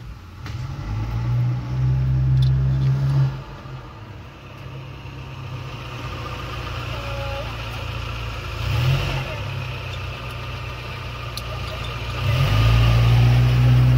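A Detroit Diesel 6-71 two-stroke engine runs in a bus after a four-valve head swap, a steady low idle that swells into two louder revs near the start and end, with no talk.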